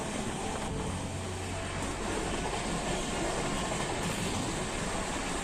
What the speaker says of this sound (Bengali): ট্রেনটা ছুটে চলল তার গন্তব্যে